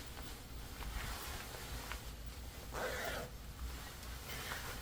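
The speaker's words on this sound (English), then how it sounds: "And then it would close up like this with the zipper sealed." A zipper is drawn closed on a sewn garment made from McCall's 8730, with bias binding wrapped over the top of the zipper tape. Close, soft raspy zipping strokes stand out, with the clearest pull near the middle, and no voices.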